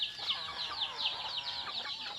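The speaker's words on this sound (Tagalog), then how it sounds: "Yung mga manok ko yan, mga native, chicken at saka ano, Rhode Island." Native and Rhode Island Red chickens cluck and chirp continuously nearby, a busy overlapping chatter of small calls with no talking.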